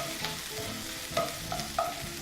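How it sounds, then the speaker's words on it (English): Bacon crackles and spits in a pan with rendered fat, with scattered light pops and sizzle over a steady low fry, close by, and a few scraping clinks from a utensil. "My bacon is good enough actually. It's well cooked and the fat has rendered."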